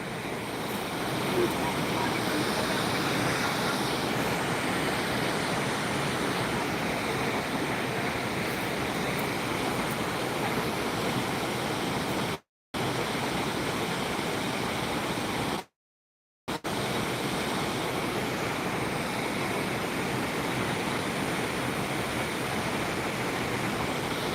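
A waterfall roars in a continuous, loud, broadband rush for the whole stretch, broken by two brief dropouts. No voices stand out above the water.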